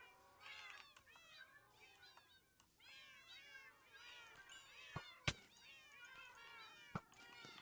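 Cats meowing repeatedly in the Minecraft video game, several overlapping cries close by and fairly loud, with a few sharp clicks and thuds in between.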